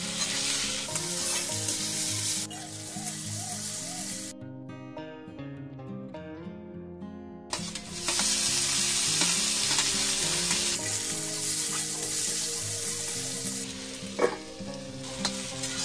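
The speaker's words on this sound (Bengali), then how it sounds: "একটু নুন দিয়ে দেব, দিয়ে আলুটাও একটু ভালো করে ভেজে নেব" Potatoes frying in oil with turmeric and salt, a loud steady sizzle with stirring close by, briefly dropping away mid-clip while a tonal music-like background plays, then returning at full strength.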